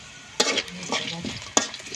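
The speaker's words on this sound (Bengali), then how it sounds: "হালকা করে ভাজা হচ্ছে" A steady sizzle of cinnamon, cardamom, cumin, bay leaf and onion frying lightly in oil, with two sharp spoon scrapes and softer stirring sounds against the pan, close and alone.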